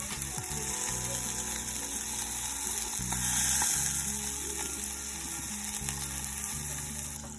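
Grass-fed organic butter melting over beef heart in a hot pan gives a steady, close sizzle and crackle with faint scraping, continuous throughout and no talking.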